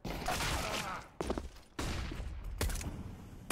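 Rapid gunfire bursts from a Counter-Strike match on the Mirage map, several dense volleys separated by brief gaps, loud and close.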